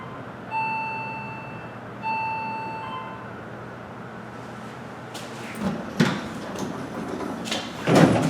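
An Otis Gen2 elevator at a parking garage in Pittsburgh, Pennsylvania: two clear chime tones sound first, then the door rolls along its track with a rumbling slide and a couple of firm clunks near the end.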